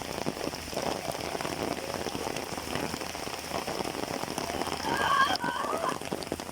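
Steady rain pours down in a rural village in Bangladesh, a dense continuous patter on surfaces close by that holds at an even level throughout, with no voices.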